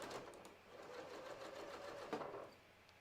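A sewing machine runs SeraFlex thread through stretch fabric, a fast steady mechanical whir of stitching that holds for a couple of seconds, then slows and stops, close and fairly quiet.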